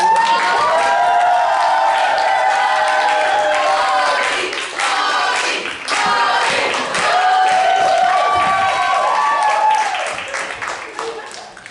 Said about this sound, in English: We have to cheer again and come back.